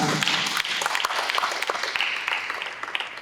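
Applause in a church during a wedding ceremony: a congregation claps steadily and densely, fairly close and loud, with no voices rising above it.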